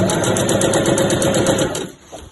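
A sewing machine runs a steady straight stitch down the side seam of a fabric weekender bag, a close, loud, fast even whir with a regular stitching rhythm that stops abruptly near the end.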